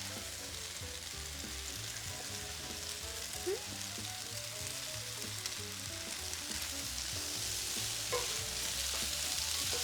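Pre-cooked, drained rice noodles frying for pad thai in a crowded pan, giving a dense, continuous loud sizzle that holds throughout, with faint occasional clinks as they are tossed. No voices.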